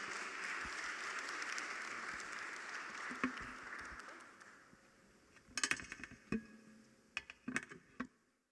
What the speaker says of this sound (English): ask of you a round of applause for our discussants